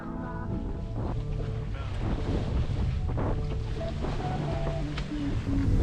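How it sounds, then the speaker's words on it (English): Strong, steady wind roars without a break over a sailboat under sail on the ocean, a dense close rush with water and hull noise mixed in and no voices. "the winds were strong and steady, which means the sail back was much better than the sail there"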